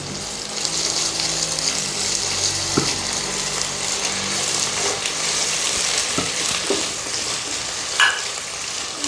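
Ginger paste fries in a hot pan for Rayalaseema-style chicken curry with color rice, a steady broadband sizzle with occasional stirring clinks and scrapes, close and continuous, no voices.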